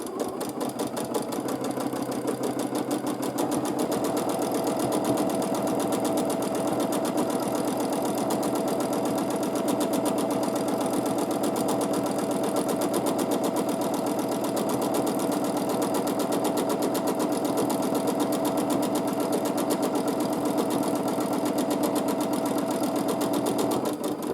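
A domestic sewing machine stitches free-motion quilting with gray thread, tracing paisley shapes. Its steady, fast needle rhythm and motor hum run close and continuous throughout, with no voices.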